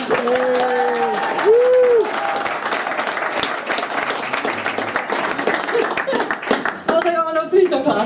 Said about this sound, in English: Oh no, please don't clap.